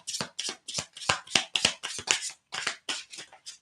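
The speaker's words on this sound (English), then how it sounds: "I'll just shuffle these a few more times and see if there's any jumpers coming out." Slippery playing cards are shuffled by hand in quick bursts, about a dozen crisp riffling flutters with short gaps between them, close and clear with no talking.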